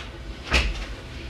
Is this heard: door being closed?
yes